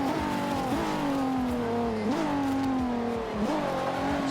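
Infiniti Q50 with all-wheel drive in Forza Motorsport 5 revs hard and steadily, its engine note climbing and dipping with each gear change and staying loud and close throughout.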